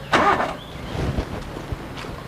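A car engine cranks and catches, with a brief starter whir followed by low engine rumble and a few knocks, fairly close and without speech.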